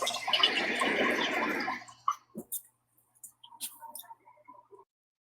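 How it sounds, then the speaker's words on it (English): A water bottle fills from a tap with a close hissing gush that stops abruptly after about two seconds, followed by faint clicks and small handling noises. "Filling the water bottle up"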